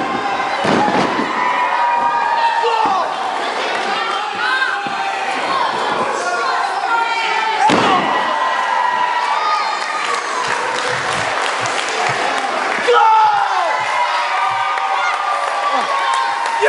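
A wrestling crowd cheers and roars in waves, with loud bursts of applause and shouts building and falling across the arena; voices ring out amid the din.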